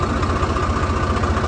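A Swaraj 855 tractor engine labors under load while pulling a heavily loaded trolley uphill, giving a loud, steady, low diesel drone with a rhythmic knocking pulse.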